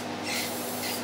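Light spray paint misting onto a 1956 Western Auto Wizard Rol Aire fan, a steady close hiss that swells in two soft bursts over about a second, with no voices.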